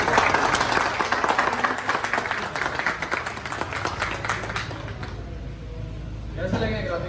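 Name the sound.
audience clapping at motorcycle launch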